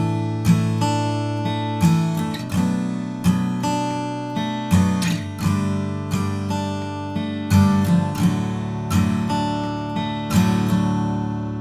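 Acoustic-style guitar strumming plays the intro chords in standard tuning, with bright, ringing strums repeating in a steady rhythm and no talking.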